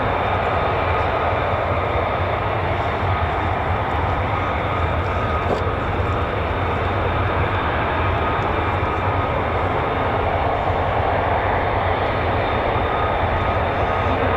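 An F-35A fighter jet's single engine runs with afterburner at an air base, giving a loud, steady, broadband roar that fills the whole stretch without letup.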